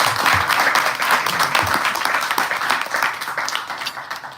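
An audience at a Balaram Purnima devotional celebration claps in a dense, steady round of applause. It is loud at first and then gradually fades toward the end, with no speech over it.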